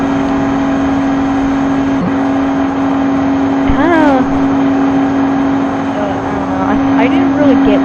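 A semi-truck engine drones steadily in a speedway racing video game, holding a constant loud hum at high speed with only slight rises, while a person talks over it.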